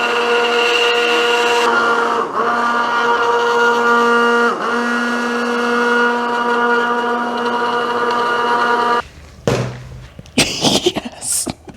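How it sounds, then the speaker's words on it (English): An immersion blender whirs loudly and steadily through a cosmetic formula for about nine seconds, its pitch dipping briefly under load, then cuts off into clattering handling noises. "I am going to go ahead and blend it with my immersion blender"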